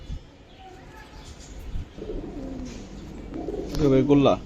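Silver Giribaz and coloured pigeons at a pigeon farm give low, rolling coos, the clearest burst coming near the end over a faint, noisy background.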